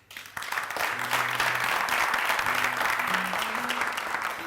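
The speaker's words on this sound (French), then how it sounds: "Je vais vous demander d'accueillir avec beaucoup d'applaudissements" An audience applauds to welcome a performer onto a television show stage, a sustained burst of dense clapping that swells in quickly and holds steady, with faint tones drifting underneath.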